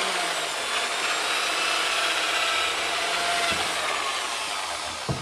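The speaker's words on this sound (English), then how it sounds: "Now I've reversed the drill because I can use the top of it now." A power drill running in reverse, working on a Honda Blackbird motorcycle, whirs steadily on its own, a continuous grinding hum with a faint rubbing texture, close and fairly loud throughout.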